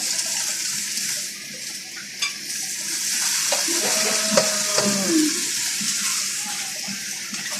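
Food being stirred while cooking at dinner makes a wet, continuous sizzle with scraping and swishing from a utensil against the pan, steady and close with no talking.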